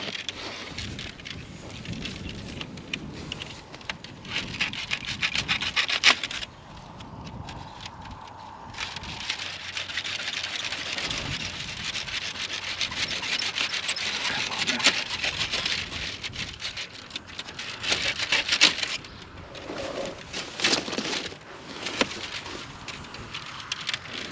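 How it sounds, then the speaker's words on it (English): Wooden snow fence being rolled up outdoors in early spring: continuous scraping, rattling and clattering of slats with bursts of crackling and a brief pause partway through, all close by and unaccompanied by talk. "Dad's starting to roll the fence."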